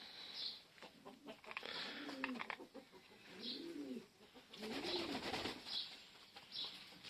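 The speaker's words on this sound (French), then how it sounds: "Donc voilà les pigeons." Strasser pigeons in a loft coo in several low, rolling calls, some overlapping, with faint chirps and rustling between them, all fairly quiet and close.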